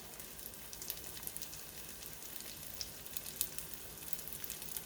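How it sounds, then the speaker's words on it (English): Chicken patties made from leftover rotisserie chicken fry in a pan with a steady, faint sizzling hiss and scattered light crackles and pops, with no talking. "So let these fry up a little bit."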